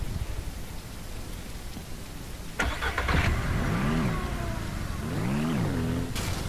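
A car engine in the video game Ranch Simulator starts up and revs in two rising-and-falling pulls over a steady background wash of rain, loud and close, with no speech.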